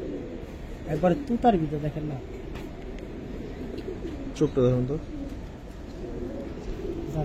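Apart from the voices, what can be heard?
Giribaz pigeons cooing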